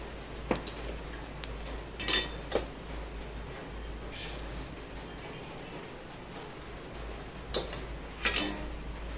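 Sesame seeds roast in a pan while being stirred, with scattered light clinks and scrapes of a spoon against metal over a steady low hum, close and without talk.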